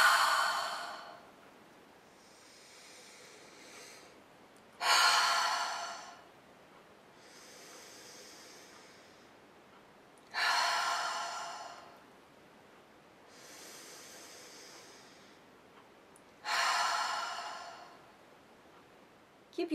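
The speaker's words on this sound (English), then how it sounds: "you can move on to a single long exhale with the same pulling of the belly technique and bringing hands to the belly" Three sharp, forceful single exhalations of yogic kapalabhati breathing, each a long hissing push from the belly, spaced several seconds apart with quieter inhalations and soft breath noise between them, close to the microphone.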